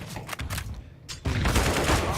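A grenade explodes in Counter-Strike during a PGL RMR Americas match: a sharp, loud burst a bit past one second that follows a quieter stretch of crackling game noise and then stays dense and rumbling.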